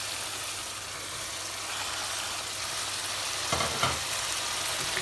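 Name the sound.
masala paste frying in a pan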